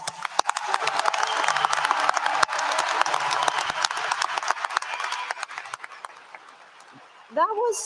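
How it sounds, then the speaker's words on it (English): A graduating class at a 2022 commencement ceremony applauds, a broad wash of clapping and some cheers that holds steady and then fades out, with a voice speaking briefly at the very end. "please give yourselves a well-deserved round of applause"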